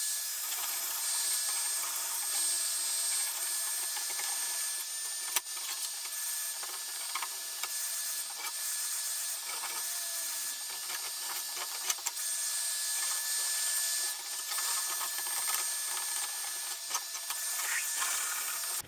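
A triangular paint scraper strips paint off a wooden piece, giving a continuous scratchy rasping with irregular strokes and small clicks, close and fairly quiet, with no voices.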